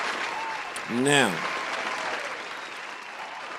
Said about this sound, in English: Give me some claps.